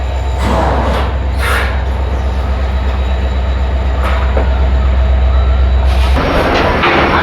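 A WDG4 diesel locomotive hauling a train thunders past close by, a heavy low engine drone under clattering wagons, with short bursts of noise throughout.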